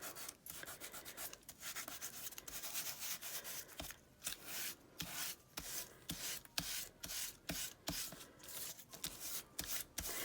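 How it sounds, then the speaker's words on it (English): Glitter on a handmade card being burnished and rubbed flat, heard as a close, steady run of rapid scratchy rubbing strokes in uneven bursts with brief pauses, and no talk. "as you burnish, like basically it's just rubbing the glitter down, flattening it"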